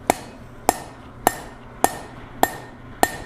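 A hammer strikes hot steel on an anvil while forging a blacksmith's drift, six sharp ringing blows evenly spaced about half a second apart, close and clear with no talking.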